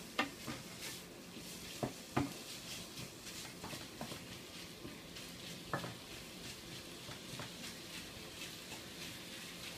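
Minced pork sizzles quietly in an electric pan, with scattered scrapes and taps of a utensil stirring it.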